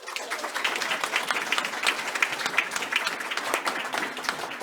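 An audience applauds student readers at a school district board meeting, a steady burst of many hands clapping that sounds moderately distant and lasts the whole stretch with no talk over it.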